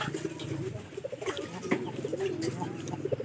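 Pigeons coo repeatedly in a loft, soft low burbling calls overlapping one another at close range with a steady murmur of birds behind them.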